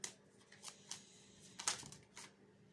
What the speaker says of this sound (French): Je vais tirer la dernière carte